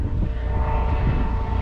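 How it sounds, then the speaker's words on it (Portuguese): A steady, droning engine roar from a helicopter flying overhead at Lagoa Redonda in Sergipe, Brazil, continuous and fairly loud with a low rumbling hum and no voices. "Ó, helicóptero."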